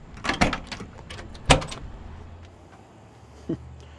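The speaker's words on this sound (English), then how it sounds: "Smooth action on the door." A restored 1967 Pontiac Firebird restomod door: a cluster of clicks and clunks as it opens, one sharp solid slam a second later, then a faint softer latch click near the end, close by with no talk.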